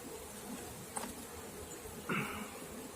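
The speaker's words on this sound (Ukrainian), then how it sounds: "Бджіл мало, всі на роботі." Honeybees buzzing softly around beehives during a hive inspection, a faint continuous drone with a couple of individual bees flying close past the microphone.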